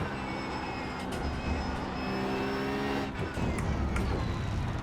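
Race car engine in the iRacing sim, a close, buzzing drone with shifting harmonics that dip and climb again as the throttle is eased back on, steady loudness throughout.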